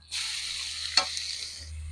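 A sudden burst of sizzling as leafy greens hit hot oil with fried garlic and nigella seeds, steady hiss with a brief sharp crackle midway, no talking.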